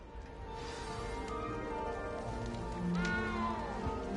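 A cat in Hogwarts Legacy gives a drawn-out meow over a steady, hum-laden game backdrop, with a second rising meow near the end.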